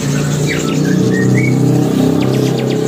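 Loper canaries chirp and trill in short bright bursts over a steady low hum, fairly close and continuous.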